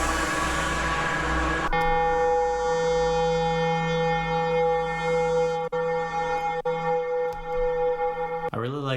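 Original synthesizer preset built on a triangle wave with pulse modulation, sustaining a steady chord of bright stacked harmonics that swells and holds for several seconds, alone without talk, cutting off near the end.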